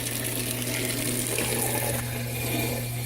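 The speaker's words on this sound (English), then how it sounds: "That's where he drained all the water out of the bucket" A small $30 return pump drains water out of a bucket with a steady, close rushing gurgle over a constant electric hum that runs unbroken throughout.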